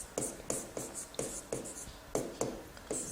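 Pen or marker writing out a geometry construction by hand, a steady run of short scratchy strokes in quick rhythm, close and fairly quiet, with no talk.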